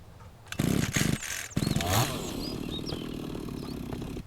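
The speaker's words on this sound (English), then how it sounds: "So let's chainsaw those down." Chainsaw cutting down trees in the game Mist Survival, a loud buzzing engine that bursts on in short revs, then settles into a sustained ragged drone while birds chirp faintly in the background.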